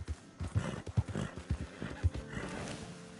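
In Red Dead Redemption 2, a horse whinnies while hooves clop in several uneven thuds, fairly close and quiet, with no speech.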